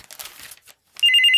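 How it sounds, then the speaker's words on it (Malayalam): A telephone rings in a house, its bright electronic trilling repeating in quick pulses and loud, after a stretch of faint indistinct sounds. "ഫോൺ ബെല്ലടിക്കുന്നത് കേട്ടൂടെ?"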